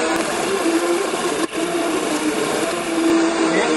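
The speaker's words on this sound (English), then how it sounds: "I get to play with the blender. So I'm going to puree the prickly pear for her." A kitchen blender purees boiled wild prickly pear with a loud, steady motor whine and churning. It runs continuously with a brief dip partway through, and no one speaks.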